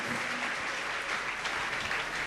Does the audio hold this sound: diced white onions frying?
no